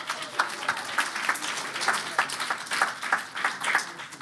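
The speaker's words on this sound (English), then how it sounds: "Let's give him a round of applause" An audience at a lightning talks event applauds steadily, many hands clapping together at close range for several seconds.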